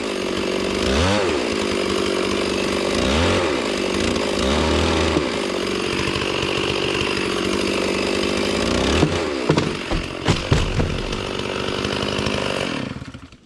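A chainsaw cuts into the back of a somewhat punky tree trunk behind the face cut, leaving a hinge. The engine drones loudly and steadily up close, briefly revving at the start, with sputtering bursts near the end before it stops.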